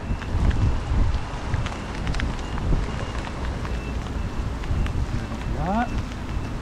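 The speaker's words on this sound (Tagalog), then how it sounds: "Sarap ng ulan ah." Steady rain pours down with gusting wind in a loud, continuous wash while fishing at sea in a heavy downpour, and a brief rising whistle-like sound cuts through near the end.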